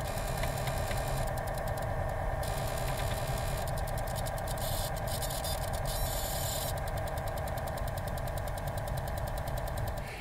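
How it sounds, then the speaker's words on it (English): A vintage computer in a museum collection sits idling while its data bus bleeds into the internal speaker, giving a continuous buzzing, chattering interference tone with shifting high-pitched patterns and steady loudness throughout, no voices. "while it's sitting here idling, you can hear the data bits going about their business"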